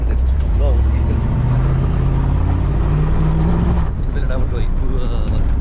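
An off-road car drives over rough desert ground in Ras Al Khaimah, its engine rumbling steadily and close throughout, with people talking over it.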